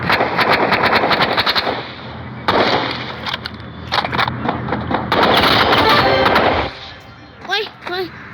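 Automatic weapon fire in the video game Rivals, loud rapid bursts that stop and start again several times, with short pauses between volleys.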